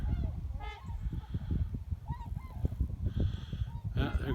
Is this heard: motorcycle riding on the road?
no